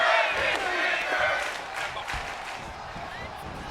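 A crowd cheers and roars in a WWE 2K25 video game arena, a dense, continuous wash of noise with scattered shouts and claps. A commentator's voice runs over it.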